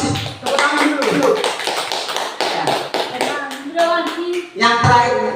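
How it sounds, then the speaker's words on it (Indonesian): A school class claps hands together in a quick, dense burst that runs throughout, with voices talking over the clapping in a classroom setting. "Tepuk tangan dulu."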